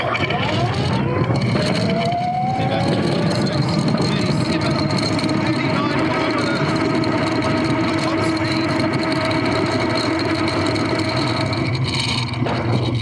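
Go-kart engine driven flat out along a long, straight, tar-sealed runway during a speed test, a loud continuous drone with rising whine that holds steady throughout.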